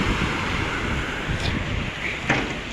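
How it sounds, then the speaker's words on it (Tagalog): Rushing flood water churns and sloshes in steady waves on a flooded street in Dubai, mixed with wind noise, a continuous loud wash without voices. "Parang alon na. This is Labir Beach. Para ng dagat, umaalon."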